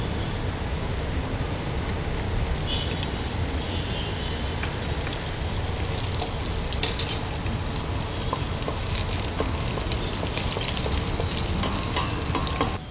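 Garlic cloves frying in hot olive oil for an Italian vegetable soup: a steady, dense sizzle and crackle of spitting oil that carries on without pause, close and fairly loud, with a few brighter pops and scrapes along the way.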